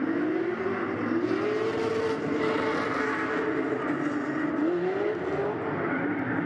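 Drift car at Agassiz Speedway pulling a big handbrake slide during a grassroots drifting competition, its engine droning and revving in rising and falling sweeps, loud and continuous with crowd-like background wash.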